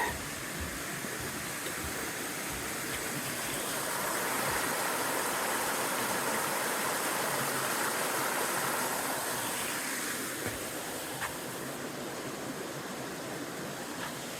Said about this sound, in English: these are some of the crossings, the river crossings that in this case, a stream crossing.